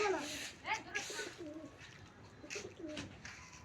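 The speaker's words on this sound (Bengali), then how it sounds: "এই যে এখানে ছাট পাচ্ছেন ঘুঘুর বাচ্চা।" Dove chicks calling with short, high chirping cries and soft coos, several repeated calls close by over a faint background hiss.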